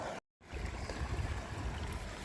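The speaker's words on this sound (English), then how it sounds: "And then there's another little waterfall." Soft, steady rush of a small trailside waterfall on the Pacific Crest Trail splashing continuously, heard after a brief moment of silence at the start.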